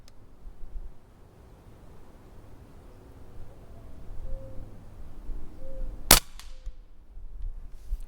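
An Umarex Notos air rifle fires once, a single sharp, loud crack that breaks a quiet, low background hum, followed by a brief faint ring-off.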